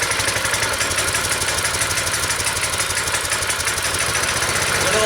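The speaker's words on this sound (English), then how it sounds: "So I'm hoping this motor will start." Small Predator gasoline engine on a homemade motorized scooter runs steadily up close with a rapid, even, pulsing chug and a rattling vibration, loud and unbroken with no talking.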